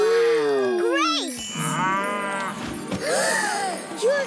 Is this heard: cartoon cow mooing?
yes